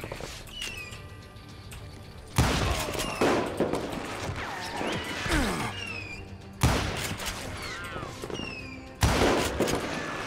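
Gunshots in the video game Call of Juarez: Gunslinger, set in a saloon shootout: several sharp, loud reports at irregular intervals amid clattering, ricochet whines and other game effects.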